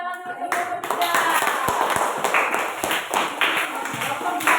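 Classroom applause for a student group during a teachers' coaching session, a dense, steady patter of many hands clapping close by, with some voices mixed in.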